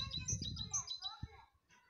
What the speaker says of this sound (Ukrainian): Ці пташечки, тільки послухайте, як вони радісно співають на цій берізці.